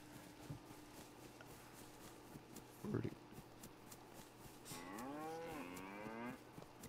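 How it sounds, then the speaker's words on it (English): Within the video game DayZ, a cow moos once, a long low call that comes late and sounds moderately distant, after some quiet shuffling and a brief clatter, with low speech faintly in the background. "I hear a cow over here."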